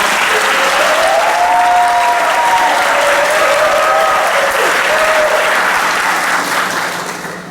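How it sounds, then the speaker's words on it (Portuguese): Congregation at a Mass installing a new parish priest in Cabeçuda, Laguna, breaks into loud, sustained applause that fills the church for several seconds, with a few voices rising above it, before fading slightly at the end. "Uma salva de palmas para os nossos."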